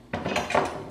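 Spicy carbonara sauce with Parmesan is stirred in a pan, a quick burst of utensil scraping and knocking against metal, close and brief.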